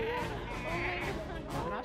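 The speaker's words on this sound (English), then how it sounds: "These guys are baby sheep." Young sheep at a grooming session bleat in short wavering cries close by, with voices talking over and around the calls.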